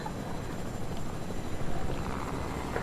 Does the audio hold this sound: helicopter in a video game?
yes